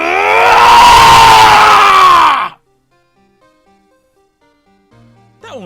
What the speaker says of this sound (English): It's that scream I heard in the elevator.